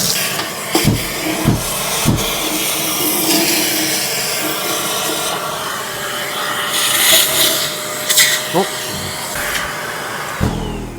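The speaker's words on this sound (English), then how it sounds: "just goes to show how powerful that shop vac is" A steady, loud shop vacuum roar runs throughout with scraping and knocking bursts as ash is sucked up nearby from a coal-burning stove.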